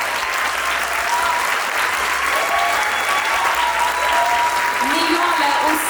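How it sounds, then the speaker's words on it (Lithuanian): Audience applause welcoming teachers at the 30th anniversary concert of the Gargždai children's choir Klevelis, a loud, dense, continuous wave of clapping from a large hall crowd, sustained throughout. "Plojimais pasitikite Jolantą Laurinavičienę ir Danguolę Gerdauskienę"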